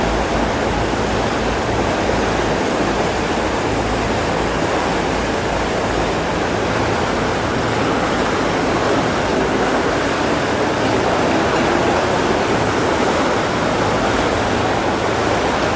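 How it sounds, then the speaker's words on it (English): Water rushes steadily along a river, a dense even wash of noise that holds at one level throughout, with no voices. "We're on the river right now."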